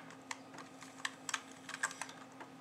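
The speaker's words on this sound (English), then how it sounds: "You can grab that and use the arrow keys and control to move them." Computer keyboard arrow keys tapped in short, irregular clusters while editing a track layout in rFactor, crisp close clicks over a faint steady electrical hum, with no speech.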